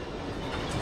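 LMS locomotive 8274 rolls along a heritage line at Ruddington, a steady close rumble of wheels on track with a continuous low roar through the brief moment.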